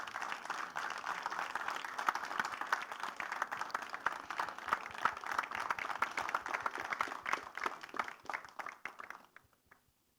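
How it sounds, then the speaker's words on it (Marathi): An audience at a Marathi felicitation event gives loud, sustained applause with dense, even clapping that tapers off near the end. "एकदा जोरदार टाळ्या झाल्या पाहिजेत"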